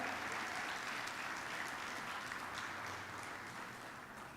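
A church congregation claps together in sustained, dense applause for Jesus, a steady roar of many hands that slowly fades toward the end, with no talk over it.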